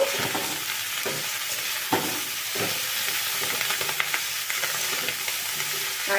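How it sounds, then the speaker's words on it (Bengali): Kachki fish mixture frying in a pan over low flame, a steady bright sizzle broken by repeated scraping stirs of a spatula throughout. "এবারে এটাকে ভালো করে মিশিয়ে দেব"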